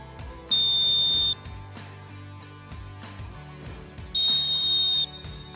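A Molten Dolfin Pro referee whistle gives two long, shrill, piercing blasts, each lasting close to a second and separated by a pause, heard over a quiet background.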